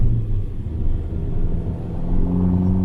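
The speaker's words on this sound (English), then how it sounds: "A nice second downshift." 2015 Fiat 500 Abarth engine on a downshift into second, a loud, close low rumble that swells and rises in pitch as revs climb, heard from inside the car.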